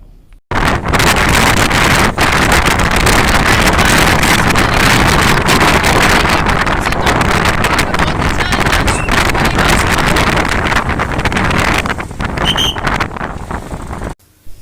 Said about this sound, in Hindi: आप सुन सकते हैं कितनी तेज़ हवा थी।